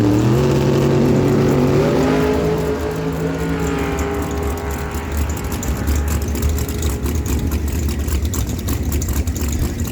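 A big block dragster at a drag strip during an NHRA day at Miramichi Dragway, its engine loud and close, rising in pitch as it revs, then roaring on as a steady harsh drone with no talk over it.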